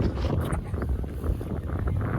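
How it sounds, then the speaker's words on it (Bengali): Strong wind gusting across open, empty land beside a river under dark storm clouds, a steady loud rumble buffeting the microphone throughout with no voices. "বিশাল হাওয়া করছে, প্রচণ্ড হাওয়া।"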